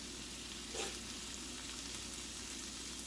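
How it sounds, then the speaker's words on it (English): Shrimp fry in fresh butter in an uncleaned pan, giving an even, continuous sizzling hiss at fairly low volume with one brief brighter crackle early on. "Just put some fresh butter in here. Didn't clean it. And that is it. We're going to place our shrimp in here"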